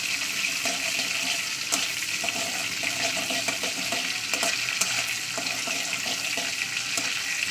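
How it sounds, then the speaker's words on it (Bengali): Onions frying in hot oil in a pan for a Bengali snake gourd (chichinga) bhaji, a steady, dense sizzle that holds at an even level throughout, with occasional faint crackles and pops. "পেঁয়াজ দিয়ে দিয়েছি পেঁয়াজ পেঁয়াজটাকে একটু লালে করে ভেজে নিতে হবে"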